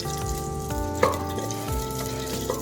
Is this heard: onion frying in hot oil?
yes